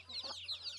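Chickens cluck on a farm where guinea fowl are also kept, several soft overlapping clucks and calls in quick succession, fairly close over a steady low hum.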